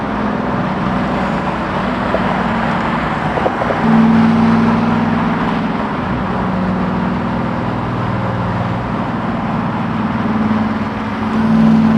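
A supercharged LT4 in a 1968 Camaro SS restomod with a six-speed cruises at freeway speed, a steady low engine drone under road and wind roar, swelling slightly midway, heard from inside the car.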